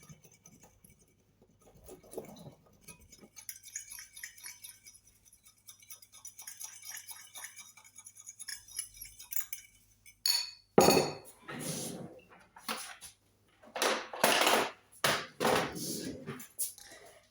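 Honey dressing for a Dutch beetroot salad is stirred in a bowl, with quiet clinks and taps at first, then louder rhythmic clattering strokes of a utensil against the dish.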